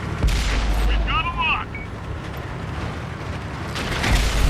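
Tank cannon shots fired on the move in the World of Tanks console game: a couple of heavy booms with mechanical clanks and a whining turret sound between them, under a commentator's voice.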